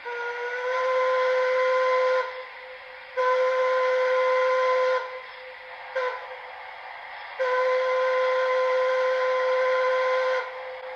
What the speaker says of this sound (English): So let's listen to a few of the preset whistles.